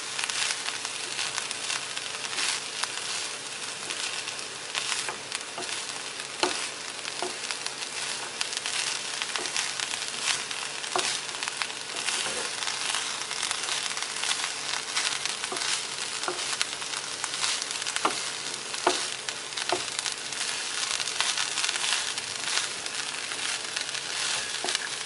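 Plantain peel and green gram stir fry being stirred in a pan, a steady sizzle with scraping and tapping of the spoon throughout, close and continuous with no voices.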